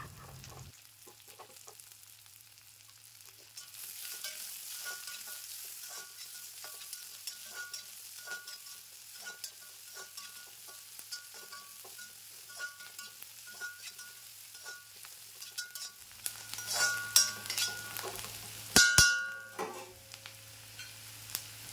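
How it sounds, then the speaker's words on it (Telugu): Onions sizzle in a pan while prawn manchurian is cooked, giving a steady close frying hiss throughout. Scraping from stirring grows busier and louder toward the end. "బాగా వేగిన తర్వాత ఆనియన్స్ కూడా వేసుకొని వేయిద్దాం."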